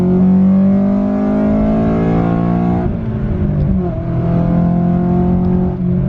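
A 2000 Honda Civic Si EM1 with a front-wheel-drive engine revs loud and close into VTEC, with a rising, strained engine note, a brief dip at a shift and then a second climbing pull, steady and dominant throughout.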